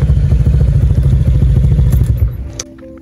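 A modified motorcycle with a non-standard engine and exhaust revs loudly up close, giving a steady rough, throbbing drone that fades out near the end.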